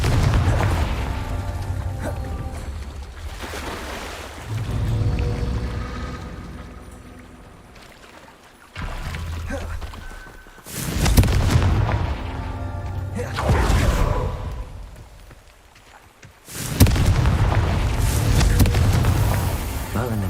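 Confringo fire spells in the video game Hogwarts Legacy burst in repeated booming explosions, each a sudden loud blast that rumbles and fades over a few seconds, with a voice speaking between the blasts.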